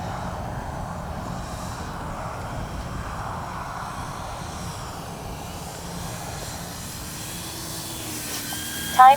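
An FMS P-47 Thunderbolt RC model warbird airplane in flight, its engine a faint, steady distant drone against open-air background noise.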